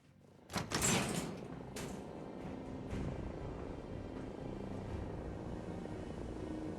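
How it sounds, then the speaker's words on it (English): A heavy door in Fallout 4 slides open with a mechanical clunk and whoosh, followed by a steady low rumbling ambience that carries on quietly after the door moves. "And open the door."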